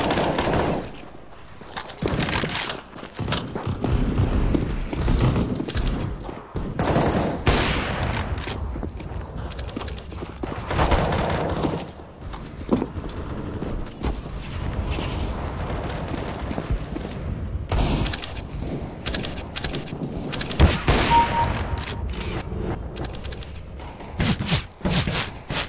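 Gunfire in Counter-Strike: Global Offensive: dense, loud bursts of automatic fire and single shots crack repeatedly throughout, with short pauses between volleys.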